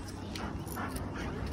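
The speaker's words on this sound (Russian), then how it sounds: "Пиренейская горная собака." A Pyrenean mountain dog whimpering softly in short nasal whines outdoors over steady low background noise, close and fairly quiet.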